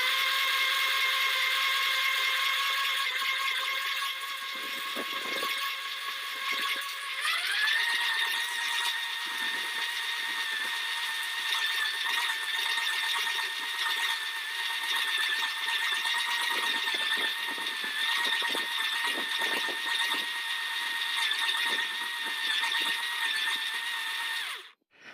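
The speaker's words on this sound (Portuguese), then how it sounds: "terminei de bobinar já aqui a primeira bobina para 220 volts" A coil winding machine winds the first 220-volt transformer coil for a homemade isolated autotransformer, giving a steady, close whine that rises in pitch early on and then holds level until it stops abruptly at the end.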